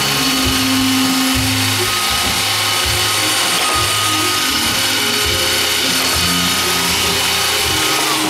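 An iRobot Roomba 530 robot vacuum makes a straight run, giving off a steady mechanical whir and hum with a rhythmic clicking, ratchet-like motor pulse, recorded close and with no talk.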